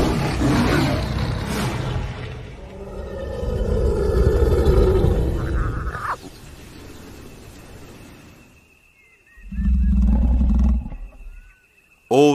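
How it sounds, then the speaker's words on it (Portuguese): A lion roars in the wild, with a long deep roar fading into low grunts, then a shorter loud roar closer by, separated by quiet gaps. "o leão também pode manipular o tom de seu rugido da mesma maneira que um cantor de ópera muda uma nota"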